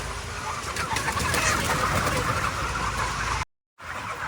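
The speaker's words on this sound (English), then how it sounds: "there's some big roosters in this" Big roosters with large red combs clucking inside a hot chicken house, a dense, steady chorus of fowl noise close by that cuts out briefly near the end.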